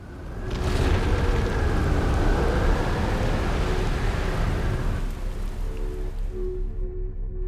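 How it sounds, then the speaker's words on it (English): Stormy weather in the video game Outer Wilds, with a steady loud rush of rain and deep rumbling that eases after about five seconds into a quieter patter with a low hum. "I hear that storm"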